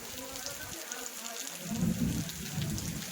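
Steady rain patters down with a soft, continuous hiss during a village windstorm, with a low rumble and background murmur rising partway through.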